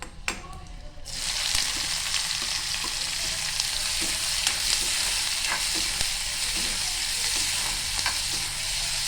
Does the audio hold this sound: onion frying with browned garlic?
yes